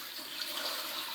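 Water streams steadily into a pot of chicken feet for bone broth, a continuous close hiss and splash with no talking.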